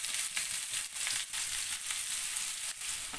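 Chopped onion and finely grated coconut fry in a pan on a tawa, giving a steady, loud sizzle close up, broken by brief scraping stirs every half second or so.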